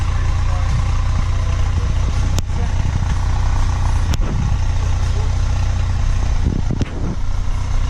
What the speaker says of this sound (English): this is car at idle.